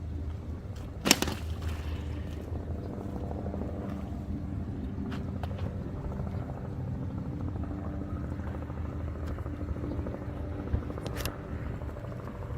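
A robotic pool cleaner's motor runs steadily underwater after being dropped into a pool, a continuous low hum with a couple of brief splashes or clicks near the start and end.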